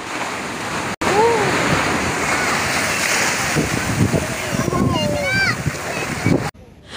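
Steady, loud roar of ocean surf washing onto the beach at Hawke's Bay, Karachi, with wind noise, while a person talks over the crashing waves.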